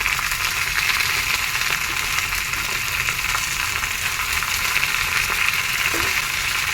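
Slit green chillies hit hot oil with a steady, close sizzle and crackle that holds level throughout, with a faint stir or clink near the end; no voices.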